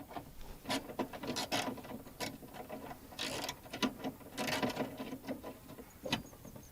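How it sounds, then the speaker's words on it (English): A ratchet wrench loosens a 10mm bolt holding the window in a 1998 Toyota Corolla door, rapid clicking pawl bursts in uneven runs, close and fairly quiet, with no talking. "so I got to remove two 10mm bolts that hold the window in place"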